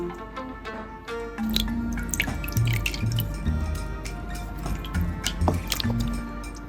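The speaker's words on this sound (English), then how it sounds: "The pulp and fibers are gently lifted out of the water." Wet paper pulp is lifted out of water on a rectangular papermaking screen, with steady close dripping and trickling plus soft squelchy splashes as water runs off the fibers.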